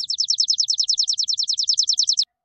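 A sparrow gives a rapid, even run of about twenty bright, high chirps. The calls are close and fairly loud over silence, and stop abruptly after a little over two seconds.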